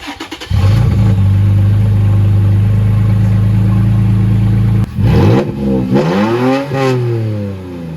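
A Toyota Tacoma V6 with its stock muffler exhaust starts with a quick crank and settles into a loud, steady idle, then gets several sharp revs that climb and fall back, close and without talk.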